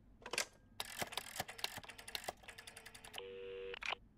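A telephone is dialed in the Sonic Boom cartoon: quick clicks and key taps, then a stretch of rapid dialing tones and a sustained electronic tone, all fairly faint with no speech.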